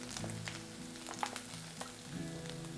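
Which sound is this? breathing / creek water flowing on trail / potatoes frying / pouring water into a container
potatoes frying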